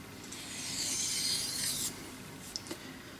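A knife blade is drawn across a Belgian coticule whetstone for light finishing strokes, a soft, close rasping rub that swells for about two seconds, then stops and is followed by a couple of faint clicks.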